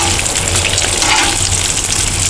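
Loud, steady sizzling of bacon frying on a hot Blackstone griddle, a dense crackling hiss with no talking.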